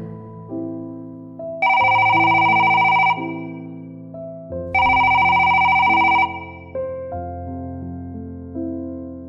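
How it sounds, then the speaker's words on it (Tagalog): A cellphone rings with a loud electronic ringtone melody: two bright, sustained bursts of high chiming tones stand out against a softer musical pattern that keeps playing between and after them, with no voices over it. "biglang tumunog ang cellphone niya"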